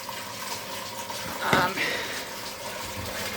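A newly installed aquarium filter churns and splashes water above the surface of a fish tank, giving a steady gurgling rush that swells briefly in the middle.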